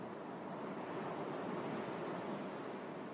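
Ocean surf washes onto a quiet, empty beach in a continuous soft roar of breaking waves and wind, steady throughout with no voices.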